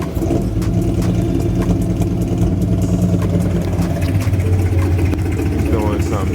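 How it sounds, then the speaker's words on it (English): A 3.7-litre Ford Mustang with a failing throttle body cranks and runs roughly, a loud close engine rumble holding steady throughout with an uneven, strained tone. "I tried to crank up my car and it made this weird noise"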